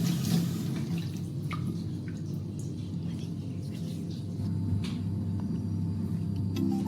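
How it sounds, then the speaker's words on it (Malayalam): A banana leaf is rinsed under running water, with a steady wash of splashing and dripping over a low kitchen rumble throughout. "ഇല കഴുകി തുടച്ചെടുക്കണം."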